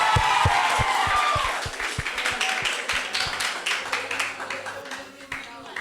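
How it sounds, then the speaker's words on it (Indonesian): Students at a school talk show in a vocational high school hall clap and cheer. The applause is loud and clustered at first, then thins into scattered, fading claps with faint voices behind. "Tepuk tangan dulu untuk"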